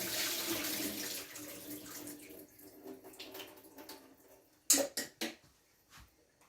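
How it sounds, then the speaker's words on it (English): Water poured off a cooking pot into a strainer, a steady rushing pour that fades, followed by a few short clanks as the pot is set down, close and fairly quiet. "Gonna strain this off."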